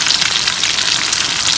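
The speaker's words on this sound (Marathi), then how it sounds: "आता आपण या साईडने पण करणार फ्राय होईल" Marinated chicken fries in a pan with a loud, dense sizzle and crackle that stays constant throughout, with no voices over it.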